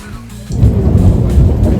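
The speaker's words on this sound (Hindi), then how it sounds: "बारिश बहुत तेज़ हो रही है" Heavy rain pours down with rolling thunder at the hilltop Mukteshwar Mahadev temple, a loud continuous roar that swells suddenly after a brief quieter start and stays dense and close throughout.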